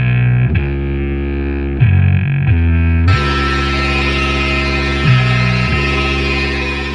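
Heavily distorted guitars play slow, sustained, loud chords, and a brighter, fuller wall of sound joins partway through.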